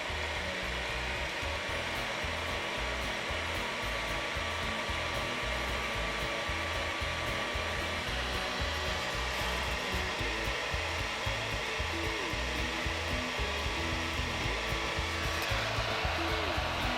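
A heat gun set to 350 blows a steady, loud rush of hot air onto model ship parts, running continuously without pause or talk.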